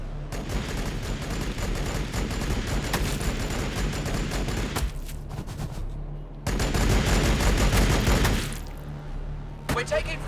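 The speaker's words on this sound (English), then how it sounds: "We're taking fire!" Heavy gunfire in the Warhammer 40,000: Battlesector video game, with dense bursts of shots and crackling impacts during an ambush, a brief lull in the middle before another loud volley.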